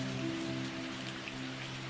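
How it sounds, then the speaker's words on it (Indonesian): Steady patter of rain on a surface, a dense continuous hiss of raindrops at moderate level with a faint sustained hum beneath, no voices. "Itu adalah tetes hujan pertama."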